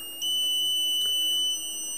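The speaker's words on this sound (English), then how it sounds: "if we try to reset the port, it will go into constant beep" A steady, high-pitched electronic beep from an Omnipod insulin pump controller with a port error sounds continuously at a constant level, shrill and unbroken, with a faint rise partway through.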